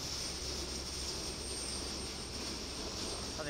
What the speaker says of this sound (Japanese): こちらが伊丹を出まして仙台空港へと向かうボーイング737の機体でございます。